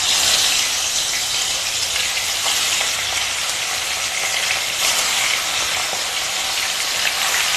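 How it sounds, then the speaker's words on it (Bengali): Fish sizzling steadily in hot oil in a kadai, a loud, dense, continuous frying hiss with small crackles throughout, no voices. "তেল গরম হয়ে গেছে, এবার তেলের মধ্যে দেব মাছগুলো"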